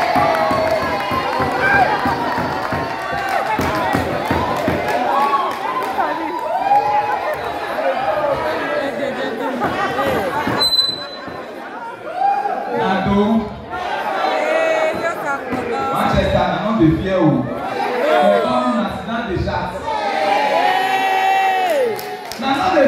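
A crowd cheers and whoops for MC Makoni at a live event, with loud, lively shouting and chatter rising and falling throughout, and excited voices mixed into the noise.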